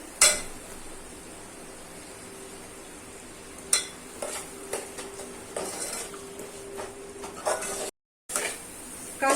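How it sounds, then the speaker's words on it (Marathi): Coriander and cumin powders roast in a pan over medium gas for chicken curry, giving a quiet, steady sizzle broken by a few sharp scrapes and clinks of stirring. "हे मसाले मी याच्यामध्ये टाकून भाजून घेते."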